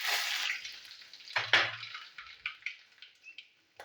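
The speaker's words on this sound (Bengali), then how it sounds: "ফোড়নটা একটু ভাজুক।" Dried red chillies and black cumin tempering in hot oil, a soft close sizzle that swells then fades in short crackling bursts, with a brief low clunk of a pan or utensil.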